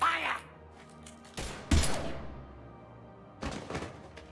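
Gunfire rings out in Mass Effect Legendary Edition: a few heavy, sharp bursts spaced apart, the strongest near the middle and another later, with quieter game ambience and a faint voice early on.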